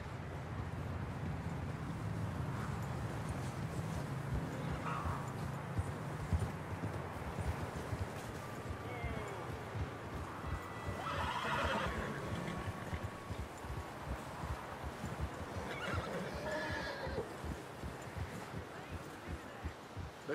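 Steady clip-clop of horse hooves in Red Dead Redemption 2, rhythmic and close, with brief neighs and wind, while voices talk in the background.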